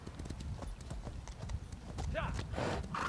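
Horse hooves clip-clop steadily while riding in The Elder Scrolls Online, a quick rhythmic trot heard alongside game ambience, with a brief whinny near the end.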